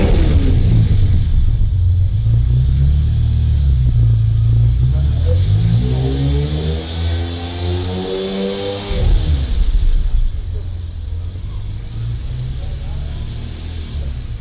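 A quad-turbo car engine runs steadily with a deep, muffled exhaust rumble, swelling into a rev around the middle before settling back to a low idle, close and loud throughout.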